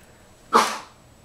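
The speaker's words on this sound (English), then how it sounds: "to sneeze in my coaching video" A single short, sharp sneeze burst, close and fairly loud, in an otherwise quiet room.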